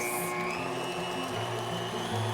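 An electric hand mixer whirs steadily as eggs are beaten into a light, fluffy cake batter for a jam cake, a close, even motor drone with no talk.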